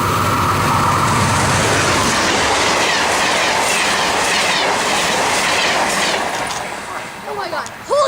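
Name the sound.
P42 locomotive train passing through station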